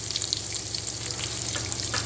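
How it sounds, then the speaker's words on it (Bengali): Potatoes frying in a pan produce a dense, constant hissing sizzle, close and even throughout with faint crackles. "আলুগুলো ভাজা হচ্ছে, যতক্ষণ না ভাজা হবে।"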